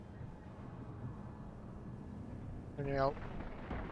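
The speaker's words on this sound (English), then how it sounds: "Sounds like thunder, but it's not raining." A low, continuous rumble in the video game Space Engineers rolls underneath, thunder-like and distant, while a voice briefly speaks near the end.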